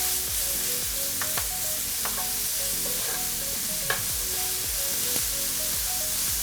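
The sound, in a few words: onion and curry leaves being mixed in pan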